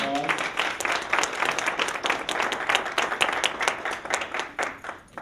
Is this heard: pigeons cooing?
no